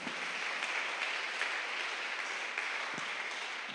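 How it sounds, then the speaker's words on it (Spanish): A church congregation claps during a Spanish-language service, a continuous even roar of many hands that sounds somewhat distant and subdued and holds steady throughout. "Dale una ofrenda de palmas a nuestro gran rey."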